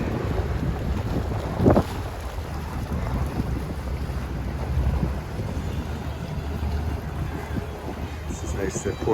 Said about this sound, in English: The wind's really whipped up here. You can really feel it.